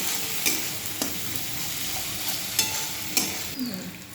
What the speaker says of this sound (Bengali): আদা রসুনটাকে ভেজে নিতে হবে।